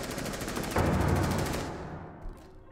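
Rapid gunfire in the video game Rainbow Six Siege during a college esports match, a fast rattling burst of shots that cuts off midway, followed by a brief fainter pop.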